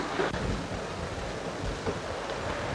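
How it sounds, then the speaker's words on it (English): Wind blowing steadily outdoors on an open range, a broad continuous rushing roar with gusty buffeting close to the microphone and no voices. "Is it always windy like this out here?"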